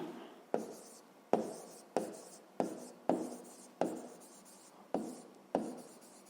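Pen or pencil writing on paper during a fifth-grade maths exercise, heard as a series of sharp, evenly spaced strokes, each tapering off, close and alone.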